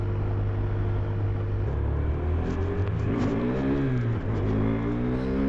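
A 2023 KTM 390 Adventure motorcycle accelerates steadily, its engine drone loud and continuous with rising and shifting pitch as it pulls through gears, alongside constant wind rush and no voices.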